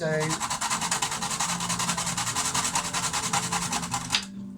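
A kitchen grinder grinds an ingredient for Swedish meatballs, giving a fast, rhythmic rasping churn that runs close and steady for about four seconds, then cuts off abruptly.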